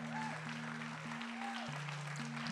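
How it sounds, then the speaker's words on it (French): Audience applause for the candidates at a local final of the Ma thèse en 180 secondes contest, a faint, continuous patter of clapping under steady sustained tones from music or a sound system. "Applaudir très très fort"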